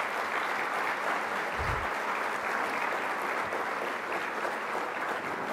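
Dense, sustained applause from a luncheon audience at a Las Vegas Chamber of Commerce event thanking sponsors; many hands clapping steadily at an even level for the whole stretch, with a brief low thump partway through.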